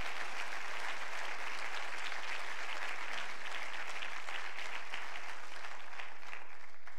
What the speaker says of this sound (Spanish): ¿No le da un fuerte aplauso a Cristo Jesús esta noche?